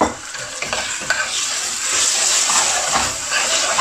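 Pre-cooked onion fries and is stirred in a pan, giving a loud, steady sizzle and hiss broken by scraping strokes, close and alone with no talking.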